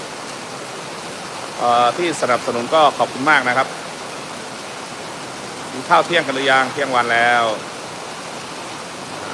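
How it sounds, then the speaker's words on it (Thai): Steady rain hisses down at a farm with grapevines, a constant broadband wash under someone speaking in two stretches. "ฝนตกนะครับ"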